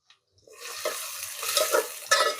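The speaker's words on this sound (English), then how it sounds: "She's sauteing it nicely." Chopped onions sautéing in a pan for a Konkani seafood masala, a few quick stirring scrapes over a rising sizzle, close and moderately loud, no speech.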